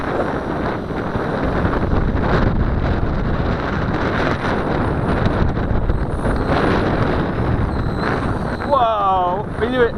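Heavy wind buffeting roars against the microphone outdoors during a mini collective-pitch helicopter flight, loud and steady throughout, with a brief whistling whine near the end.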